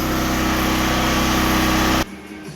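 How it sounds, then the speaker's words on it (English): Welding on a homemade metal plate that sits on top of 5.3 LS valve springs produces a loud, steady buzzing hum that cuts off abruptly near the end. "I'm gonna take this out and weld this up"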